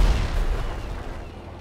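An RC tank fires a rocket in GTA 5 Online with a single heavy boom that rolls off into a fading low rumble.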